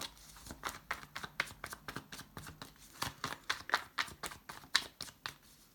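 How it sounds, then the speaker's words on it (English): Tarot cards being shuffled by hand, a close series of rapid riffling and slapping bursts in an uneven rhythm, with no voice over them. "I've done a lot of shuffling lately."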